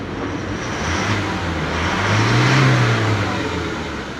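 Diesel engine of a Toyota Innova revving up and easing back, a steady mid-pitched drone that swells to a louder peak partway through before settling, heard alone and close with no talking.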